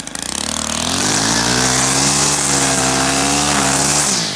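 A gas weed eater string trimmer runs at high throttle, a loud, close, continuous engine whine with a buzzing edge that holds steady for several seconds and then eases off at the end, with no talk.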